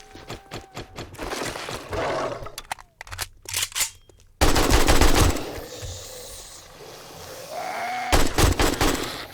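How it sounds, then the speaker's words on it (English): Rapid bursts of AK rifle fire in 7 Days to Die crackle loudly in several volleys, with short gaps and game sound effects between them. "I shouldn't be using the AK. I'm making a lot of noise."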